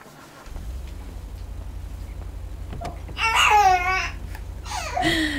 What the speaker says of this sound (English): you're gonna be hearing baby light squeal the whole time